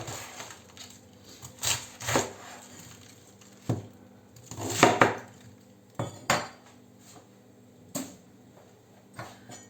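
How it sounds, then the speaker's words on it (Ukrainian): A knife chops through cabbage in irregular crunchy strokes against a board, a dozen or so close cuts with short pauses between them. "знову буду нарізати капусту"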